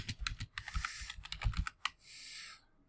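Quick bursts of clicking keystrokes on a computer keyboard while code is typed for a Python Flask web app. The keystrokes are close and crisp, uneven in rhythm, and end with a brief run of rapid tapping.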